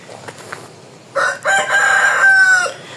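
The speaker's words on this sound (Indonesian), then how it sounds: "Saya tertarik dengan sahutan ayam yang ada di sini" A rooster crows in an Indonesian hill village, one loud drawn-out call lasting over a second, close by, preceded by faint background clucks and rustle; no talking.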